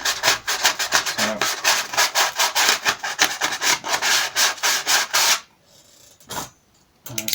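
Rhythmic back-and-forth sanding on the trimmed edge of plastic stormtrooper armour, about fifteen quick, even strokes close up, then a short pause and a couple of lighter scrapes at the end, with no talking.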